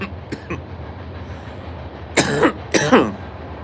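A video game's Hogwarts train sounds two short, whistle-like toots in quick succession over a low, steady background.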